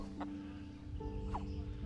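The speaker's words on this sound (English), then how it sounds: "I love how concerned chickens sound all the time." Chickens cluck in the medieval role-playing video game Kingdom Come: Deliverance. A few short, worried-sounding clucks sit over a steady low background hum.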